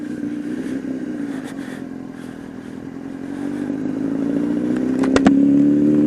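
A superbike engine idles steadily with a low rumbling drone at the start of a ride, the pitch and loudness rising gradually near the end, with a few close clicks and clatters.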